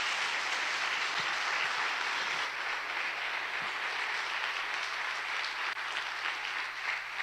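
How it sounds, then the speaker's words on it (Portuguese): A church congregation applauds during a priest's weekly reflection, producing a dense, continuous roar of clapping that holds steady throughout, fairly loud and with no speech over it. "Pode aplaudir, pelo amor de Deus."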